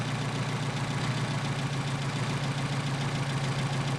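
A Mercedes 190SL engine idles close and steady on Solex 44PHH carburetors under adjustment, a loud, even low-pitched rumble with a fine rhythmic pulse and no talking.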